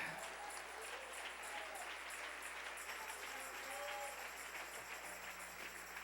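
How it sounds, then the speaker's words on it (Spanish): Applause from a church congregation fills the sanctuary in a continuous, even wash of clapping, with a faint background hum beneath it. "Denle ese aplauso al Rey."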